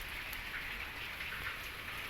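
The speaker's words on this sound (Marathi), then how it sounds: "पावसाची आवड आहे बघा कसला येतो डेंजर." Heavy rain pours down in a dense, steady hiss of drops striking surfaces and filling flowerpots, constant and unbroken with no voices.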